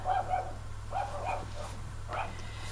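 Small dogs next door bark faintly in the distance, three short bursts of yapping spaced across the moment over a steady background hum.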